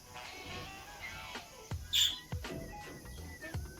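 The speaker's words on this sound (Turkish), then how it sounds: "Bu muhabbet kuşları hiç susmuyorlar arkadaşlar" Budgerigars chirp inside a room, a scatter of faint, quick tweets and short squawks, with one sharper, louder call partway through, over a quiet background.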